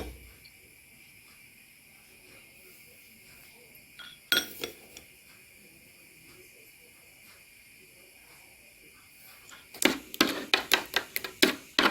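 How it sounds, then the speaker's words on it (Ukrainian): Quiet hum, then a single clink, followed later by a quick run of rhythmic metallic clinks as a spoon stirs sugar into pumpkin purée in a bowl. "Трішки розмішуємо його."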